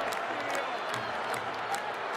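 Stadium crowd reacting during an Ohio State marching band halftime show, a dense, steady roar of many voices with a few sharper shouts rising out of it.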